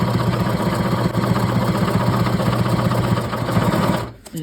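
Heavy-duty Janome or Singer sewing machine stitching through thick leather, a steady loud mechanical whirr with rapid needle rhythm running continuously before stopping abruptly near the end.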